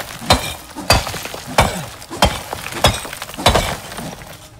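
Glass being produced in the game Icarus sounds like a loud series of about seven sharp, crashing, glassy clinks. They come at an even rhythm, roughly two every second, close and with no talk.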